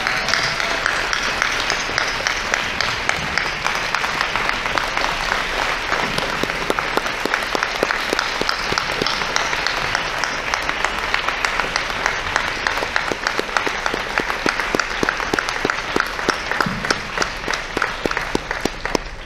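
Audience applause at a vegan advocacy workshop, dense sustained clapping from a crowd in a hall, holding steady for nearly twenty seconds without talk.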